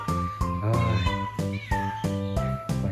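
Several cats meow loudly and close by inside a cat house, a quick run of overlapping, drawn-out calls.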